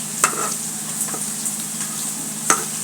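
A masher works through cooked teasel gourd, giving three or four brief, faint knocks spread unevenly over a constant background hum.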